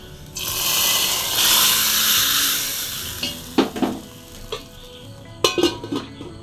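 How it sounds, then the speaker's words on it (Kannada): Garlic and mustard seed tempering poured into a pan of cooked jackfruit, giving a broad sizzle that rises then settles, followed by several sharp metallic clinks of a spoon against the pan. "ಅದಕ್ಕೀಗ ನಾನೊಂದು ಒಗ್ಗರಣೆಯನ್ನು ಹಾಕ್ತಾ ಇದ್ದೇನೆ ಸೊ ಒಗ್ಗರಣೆಗೆ ಇಲ್ಲಿ ಬೆಳ್ಳುಳ್ಳಿ ಮತ್ತು ಸಾಸಿವೆಯನ್ನು ಮಾತ್ರ ಹಾಕಿದ್ದೇನೆ"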